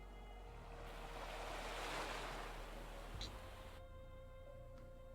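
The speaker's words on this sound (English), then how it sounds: "I seem to hear the sound of waves again." Ocean waves wash in a video game, a steady rolling surf with wind that swells and eases, heard alone beneath a low ambient drone.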